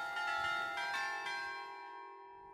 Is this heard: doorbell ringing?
yes